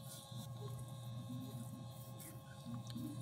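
A blower on a waste oil stove runs smoothly with a steady hum and faint whirring, a continuous mechanical drone that holds even throughout.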